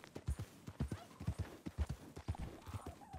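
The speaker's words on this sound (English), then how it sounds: "we get to sit here and horse ride all the way over to Valentine" Horse hooves clip-clopping at a steady riding gait in the video game Red Dead Redemption 2, a rhythmic series of close thuds, moderately quiet and continuous, with no voices.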